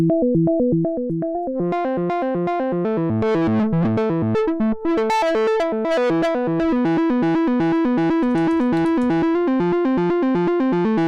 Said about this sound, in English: In the combine track here, I'm just going to apply a filter.